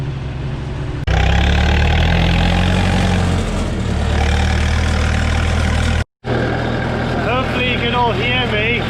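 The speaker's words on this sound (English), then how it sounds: "we're in the 434 International with the 2 for a plough on" An International 434 tractor engine runs loud and steady close by with a plough on the back, a constant low drone with a brief cut-out partway through.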